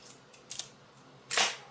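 Scissors snip through a strip of tape in two short, crisp cuts, the second louder and longer, close by in a quiet room with no talking.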